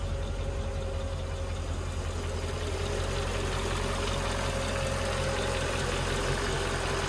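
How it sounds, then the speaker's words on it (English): A Mercedes-AMG M113K supercharged V8 idles at a steady, loud drone, its valve train adding a busy mechanical ticking over the low rumble throughout. "because the M113K has a more primitive valve train, it makes more noise."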